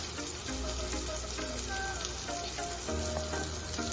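Tomatoes with chili powder and a little coriander powder frying in a pan for masala pesara pappu, a continuous close sizzle with faint scattered crackles and stirring, no voices.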